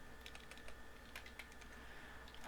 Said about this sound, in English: I can actually start typing now